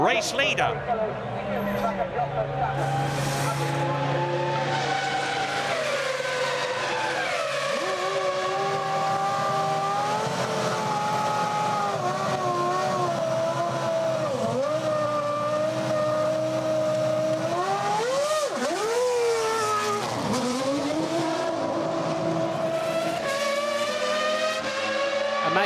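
A Ferrari Formula One car enters the pits during the 2001 Italian Grand Prix, its high engine whine steady and loud throughout with pitch shifts, under continuous excited race commentary.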